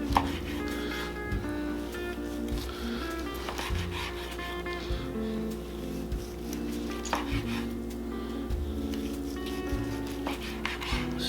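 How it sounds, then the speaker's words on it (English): A knife slices through a seasoned, smoked pork loin on a board, giving repeated soft, rhythmic cutting strokes with light scraping and clinks at close range, fairly quiet over a steady hum. "I'm gonna start slicing here and see what we got."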